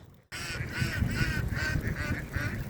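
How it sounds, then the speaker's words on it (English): Several ducks quack and honk in a repeated, rhythmic series, close and loud, with no talking. "Ducks are talking smack right now."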